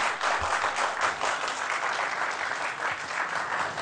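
A Turkish television studio audience applauds Murat Özbay, dense and continuous clapping from many hands at moderate loudness, holding evenly from start to finish.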